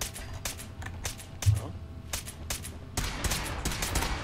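Gunfire from the video game Fallout 4: a string of sharp shots in irregular bursts, some single and some clustered, with denser firing toward the end over a low background rumble.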